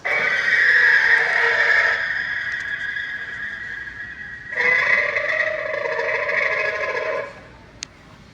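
An 8-foot-long giant zombie velociraptor Halloween animatronic prop gives a loud, harsh, shrieking roar in two drawn-out bursts with a brief dip between them. A faint click follows at the end.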